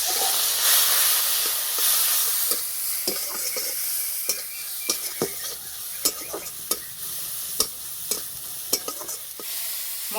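Chili powder, cumin powder and turmeric fry with a splash of water in a pan, a steady hiss broken by sharp, regular scrapes and knocks of a spoon stirring, growing more rhythmic toward the end.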